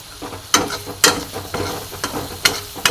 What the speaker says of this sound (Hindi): भून लेंगे अभी।